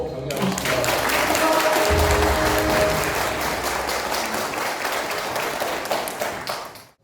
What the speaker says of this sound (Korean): 뜨거운 박수로 격려하겠습니다